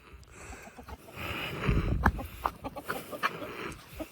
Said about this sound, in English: Chasing chickens.